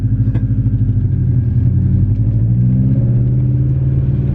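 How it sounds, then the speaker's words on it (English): A loud 2000 Honda Civic Si EM1 with a cat and muffler fitted, its engine and exhaust booming and droning steadily close-up while it is driven, the deep note shifting a little as revs change, with no talking. "As you guys can tell, this car is crazy loud."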